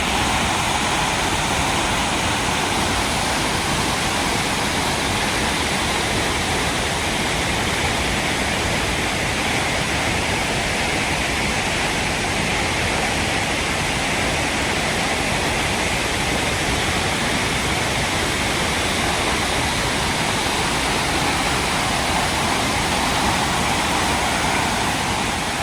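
Devil's Throat, the horseshoe-shaped waterfall at Iguazu Falls, roars as a dense, constant wall of rushing water, loud and unbroken throughout with no voices.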